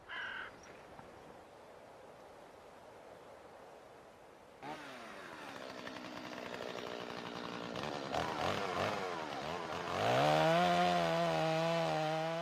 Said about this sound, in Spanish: El sonido de las motosierras nos devuelve al presente